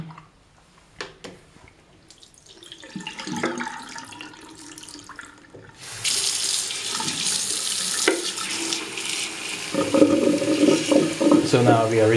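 Tap water runs steadily while rinsing black-and-white slide film (Fomapan R100) during developing, a faint trickle at first, then a louder continuous splashing stream for the second half, with brief talk early on.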